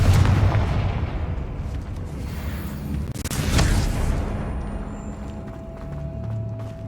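A Confringo fire spell in Hogwarts Legacy erupts into rumbling booms and crackling blasts, a heavy low-end explosion swelling mid-clip amid ongoing game noise.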